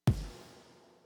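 A single deep, booming 808 electronic kick drum hit, Ableton's default kick, with a sharp attack and a long, slowly decaying low tail, heard alone.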